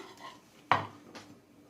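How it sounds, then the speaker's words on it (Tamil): A Swiss roll cake is moved onto a plate in a home kitchen, one sharp close clink of crockery or cutlery against a plate, followed by a fainter tap. "இதை ஒரு பிளேட்டுக்கு மாற்றிடலாம்."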